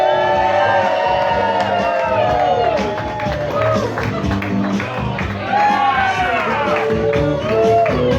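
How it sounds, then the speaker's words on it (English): Wedding guests clap and cheer as the couple feed each other cake, a dense, steady wash of applause with whoops and shouts rising above it, loud and close throughout the room. "give them a big round of applause."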